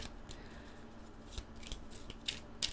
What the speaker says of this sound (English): This is why I do the bulk of my shuffling off camera